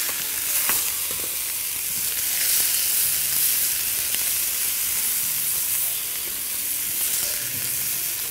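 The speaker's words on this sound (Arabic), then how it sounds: "انا حطيت هنا شوية زيت صغيرين علشان نقلب الكفتة فيهم" Kofta sizzles in a little oil in a frying pan, giving a steady, close hiss with faint occasional clinks, and no talking over it.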